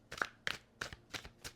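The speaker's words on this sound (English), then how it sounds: "I'm going to shuffle these one more time." A deck of tarot cards is shuffled by hand, giving five quick, faint riffling bursts in a steady rhythm at close range.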